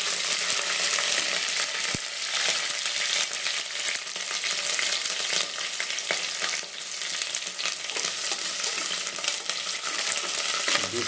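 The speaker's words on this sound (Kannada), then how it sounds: "ಕರಿಬೇವು ಮತ್ತು ಹಸಿಮೆಣಸಿನಕಾಯಿ ಎರಡೂ ಡೀಪ್ ಫ್ರೈ ಆಗಬೇಕು." Curry leaves and green chillies deep fry together in hot oil, a loud, dense crackling sizzle that runs continuously, with a sharp clink near the start and occasional stirring scrapes.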